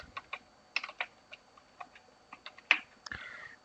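Code being typed on a computer keyboard, close and quiet: irregular clusters of soft key clicks with a few sharper taps, no talk.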